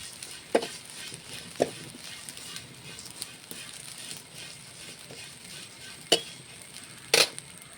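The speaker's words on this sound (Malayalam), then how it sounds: "ഒന്ന് നല്ലവണ്ണം ബ്രൗൺ കളറിൽ വറുത്തെടുക്കണം" Spice powder dry-roasted in a hot pan until brown gives a soft, steady sizzle, broken by a few sharp scrapes and clicks of stirring, with no talking.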